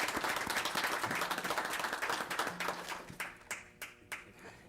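A small group applauds local businesses at a village board meeting in Skokie, dense clapping at first that thins out to a few scattered claps and fades out.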